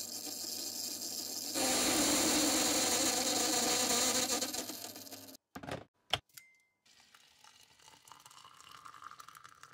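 A small milling cutter, twice as wide as it is thick, chatters loudly against the workpiece on a mini milling machine, a dense rattling grind that cuts off abruptly and leaves a few sharp knocks and quieter machine hum.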